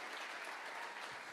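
A church congregation claps for Jesus, a brief, very faint wash of steady applause with no speech over it.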